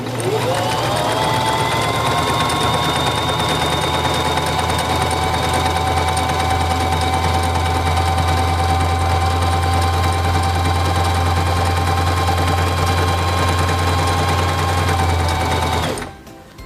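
A Singer Simple 3232 sewing machine stitching a honeycomb pattern runs at a steady fast buzzing hum for about sixteen seconds, close and loud, then stops abruptly.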